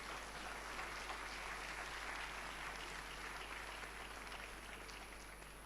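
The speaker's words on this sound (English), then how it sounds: "A round of applause." An audience at the Ghana Cedi 60th anniversary launch event in Accra breaks into steady, sustained applause, a dense even wash of many hands clapping at moderate distance, with no voices over it.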